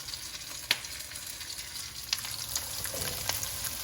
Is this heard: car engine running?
no